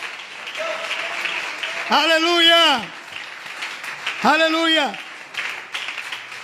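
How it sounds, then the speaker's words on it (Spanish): Church congregation applauding during a sermon, a soft, continuous patter of clapping running underneath a man's drawn-out sung exclamations that rise and fall twice, the voice standing well above the applause. "Dale un aplauso fuerte."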